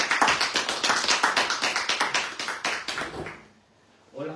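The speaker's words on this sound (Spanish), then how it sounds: "Fuerte aplauso para Gabriel" An audience at a panel discussion claps in a fast, even rhythm for a speaker, holding steady for about three seconds before fading out, then a brief sound follows.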